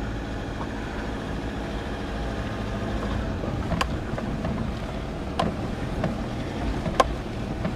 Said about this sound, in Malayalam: നല്ല പച്ചപ്പ് നിറഞ്ഞ ഒരു ഓഫ് റോഡ് ഡ്രൈവിംഗ് ആണ് ഇപ്പോൾ നമ്മൾ ചെയ്തുകൊണ്ടിരിക്കുന്നത്.